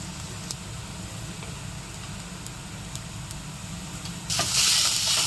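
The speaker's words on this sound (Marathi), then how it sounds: "कांदा सुद्धा छान आपल्याला बारीक लालसर छान असं भाजून घ्यायचं" Chopped onion with turmeric fries in a pan for zunka, giving a soft continuous sizzle and hiss that swells suddenly louder near the end, with no voices.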